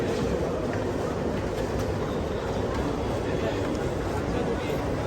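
A suburban train at a crowded station makes a dense, steady rumble that fills the whole stretch, loud and unbroken, with faint voices mixed in.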